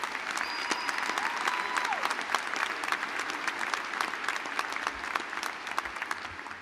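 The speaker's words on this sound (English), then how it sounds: "Please, let's give her a huge round of applause for her great leadership here." Sustained audience applause fills a commencement ceremony hall, a dense steady roar of many hands clapping at moderate distance, with a few faint voices mixed in and no pause for nearly seven seconds.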